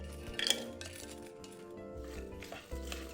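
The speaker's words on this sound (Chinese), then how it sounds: "小火拌炒。" Cinnamon, star anise, shallots, dried chillies and bay leaves are stir-fried in a little oil in a wok over low heat, heard as quiet, scattered clinks of a utensil against the pan over a soft, low background.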